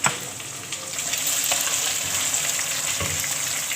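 Steady loud sizzling of meat frying in a pan for bhuna gosht as garam masala is stirred in, with a spatula scraping now and then, close and continuous.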